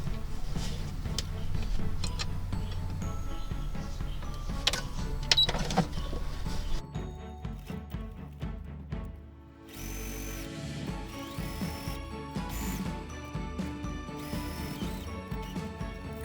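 A sewing machine stitching pinned fabric, a close mechanical run of rapid ticking and whirring that pauses midway and resumes with a cleaner, steadier rattle, no talking.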